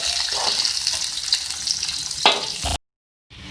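Red chilies and ginger fry in a hot pan for a chana dal and lauki dish, giving a steady close sizzle with a brief stir near the end, then a sudden cut to near silence before the sizzle returns faintly.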